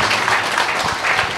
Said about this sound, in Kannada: ಇನ್ನೊಂದು ಸರ್ತಿ ನಾವು ಚಪ್ಪಾಳೆ ತಟ್ಟೋಣ ದೇವ್ರ ಮಹಿಮೆಯಾಗಿ